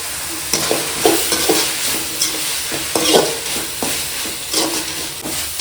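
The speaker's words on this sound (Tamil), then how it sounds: "கீரை ஓரளவுக்கு நல்லா வதங்கிடுச்சு நம்ம தேங்காய் போய் சேர்த்துக்கலாம்" Black nightshade greens (manathakkali keerai) stir-fried with coconut in a pan, with a steady sizzle beneath repeated scraping strokes of a spatula, close and fairly loud throughout, no talking.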